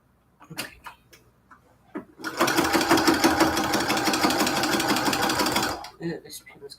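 A sewing machine back-stitching a cathedral window quilt curtain runs in one fast, steady mechanical burst of about three and a half seconds. A few light clicks and handling noises come before and after it, and someone may speak briefly.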